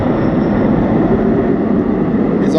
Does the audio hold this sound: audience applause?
no